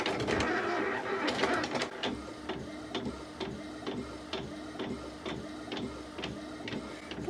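A home printer runs through a print job with steady mechanical whirring and a regular series of sharp clicks and clacks from the paper feed, close and fairly loud, with no talk over it.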